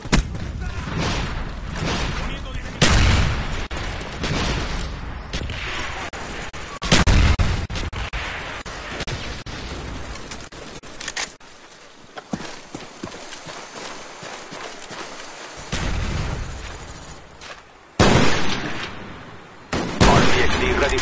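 An artillery strike in Call of Duty: Black Ops: several heavy explosions burst out at intervals amid battlefield noise, with voices speaking between the blasts.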